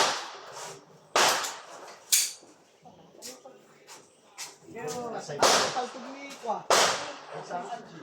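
Gunshots at a firing range in Peñablanca, Cagayan: several sharp, loud cracks spaced a second or so apart, with people talking between and over the reports.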